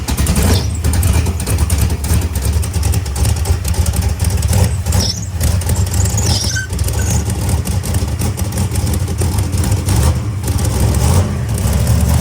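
A turbocharged SRC Mustang engine idles steadily as it warms up, a loud continuous low rumble close by with no pauses or speech.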